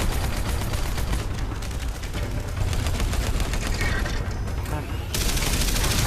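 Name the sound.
gunfire in the video game Terminator Salvation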